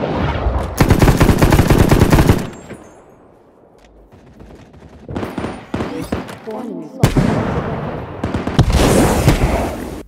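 Rapid sniper and automatic gunfire from an online shooter game played on laggy servers, loud dense bursts at the start and again near the end with a quieter stretch of scattered shots and voice chatter between.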